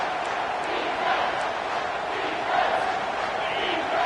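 A football stadium crowd roars on a third-and-long defensive play, a dense sustained wash of many voices that swells slightly, loud and continuous throughout.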